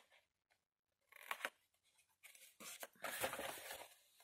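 Scissors snip through paper for a scrapbooking base, a few quiet close cuts at first, then a longer run of crisp slicing strokes in an otherwise quiet room.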